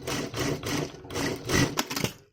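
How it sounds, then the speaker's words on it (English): A sewing machine reinforces button loops on a formal dress, running in several short, rhythmic bursts of close, mechanical stitching, each pausing briefly before the next. "I want to do one more stitching to make it stronger."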